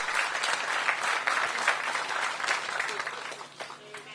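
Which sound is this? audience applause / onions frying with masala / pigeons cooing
audience applause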